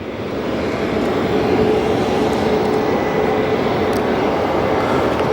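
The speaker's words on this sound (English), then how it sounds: "Turning onto the runway now is that Frontier A320 headed to Portland" Frontier Airbus A320 jet turning onto the runway at Phoenix Sky Harbor Airport, a steady broadband engine roar holding constant for several seconds at moderate distance, with no voices.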